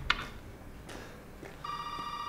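Telephone ringing inside the Resident Evil 7 game world, a short burst of a bright electronic ring starting late and sustained to the end, quiet and alone after a few faint knocks and clicks.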